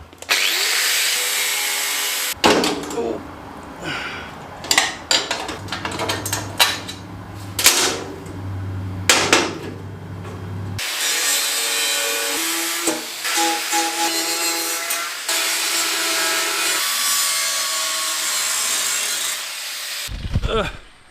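A power tool, likely a grinder, cuts a sheet metal plate out of a side-by-side's body during steering work, giving loud sustained harsh whines in long bursts separated by brief pauses, with scraping and rattling between cuts and no talk.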